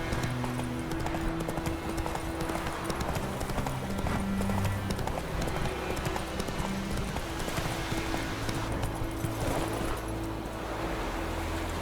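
Roach the horse galloping in The Witcher 3, a fast, steady clip-clop of hooves close up under a wash of ambient surf-like noise, with no talk.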